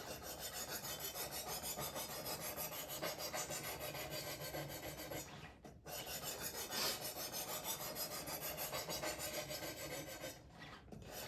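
Knife blade drawn heel to tip across the abrasive of a Worksharp Precision Sharpener, a steady close rasping scrape that runs nearly unbroken, with two short pauses between strokes.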